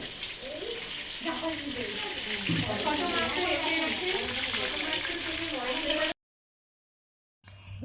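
Running water splashing steadily while raw chicken is washed in a rented holiday kitchen, a constant rushing flow with voices talking over it, then cutting off abruptly.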